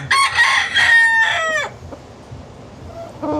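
A fighting cock crows once, loud and close, in a long drawn-out call, followed by quieter clucks and short calls from the farmyard.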